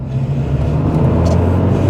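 An MG ZS TD 115 pulls away under hard acceleration through a village, a close, continuous engine drone rising slightly over about two seconds, with no talking.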